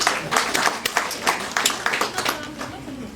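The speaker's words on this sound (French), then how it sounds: "Je vous demande d'applaudir une fois de plus ces artistes." A crowd at an outdoor event applauds performers on a podium, with distinct uneven claps rising and falling close by, and a voice talking over part of the clapping.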